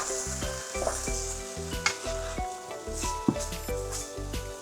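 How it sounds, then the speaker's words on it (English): Chopped garlic and onions sizzle gently in a pan for a homemade spaghetti sauce, a steady hiss with a few faint utensil clinks, mostly buried under prominent background music. "I'm chopping 2 cloves of garlic to add to the onions and let it cook gently"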